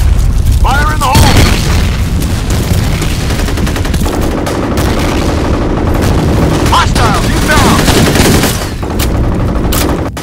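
Grenade blasts and gunfire in a video game firefight, loud booms among dense bursts of rapid shots, with voices calling out over the continuous close battle noise.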